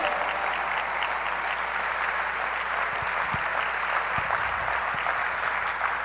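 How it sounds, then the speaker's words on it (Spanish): A church congregation applauding steadily during a sermon, a dense even wash of clapping with a few low thumps underneath. "Dele un fuerte aplauso al Señor."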